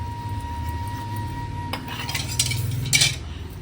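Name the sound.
scrubbing small bowls and dishes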